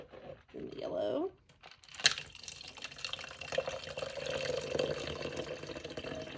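Plain water runs from a tap while a vinyl crafter works with snap-on lidded containers, a soft steady pour under ongoing talk with a brief clatter partway through.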